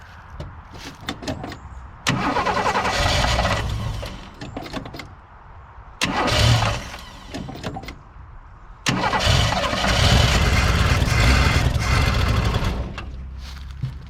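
An old Ford engine, a 1962 Falcon or 1967 Galaxie abandoned for years, cranks loudly on its starter in three long bursts. Each whirring grind stops and restarts after a short pause without catching.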